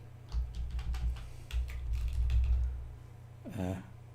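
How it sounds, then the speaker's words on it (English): Quick, uneven keystrokes on a computer keyboard that is playing up, clattering close by in bursts with short pauses and a creaky clunk near the end. "I've just tried to type River Weir into Google and it's not working"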